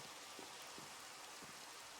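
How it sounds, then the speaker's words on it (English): Steady soft rain falling in a Minecraft world, a quiet continuous hiss of droplets with a few faint low taps, no talking. "Excuse the rain."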